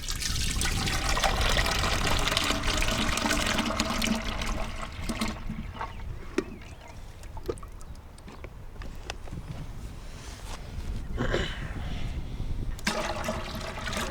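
Ice cream mix pours into a canister set inside a tub for homemade ice cream, a close, continuous gushing and splashing that thins into trickles and dribbles before swelling again near the end.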